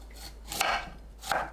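Knife chopping washed broccoli into bite-size pieces on a board, two distinct close, crisp cuts about 0.7 seconds apart, with no talk.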